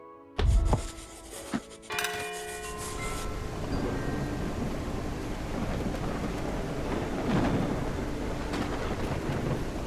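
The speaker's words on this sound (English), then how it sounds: "And heavy rain." Thunder cracks loudly near the start in the Whiskerwood video game, then gives way to a steady roar of heavy rain that fills the rest of the scene with a dense, continuous wash.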